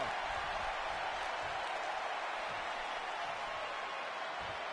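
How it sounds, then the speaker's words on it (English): Steady crowd roar and cheering from a WWE 2K20 wrestling arena crowd, a broad continuous wash that holds at an even level throughout with no clear peaks. "the crowd is loving Sasha's act"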